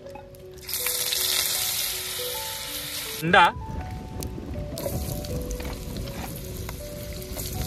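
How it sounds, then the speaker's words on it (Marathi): Chicken 65 pieces frying in oil and butter in a wok over an outdoor wood fire, a loud steady sizzle broken by a brief clatter, with someone talking over the cooking. "त्याचे आपण परत कढईमध्ये तेल टाकलंय आणि त्याच्यामध्ये थोडा ना आपण बटर टाकूया."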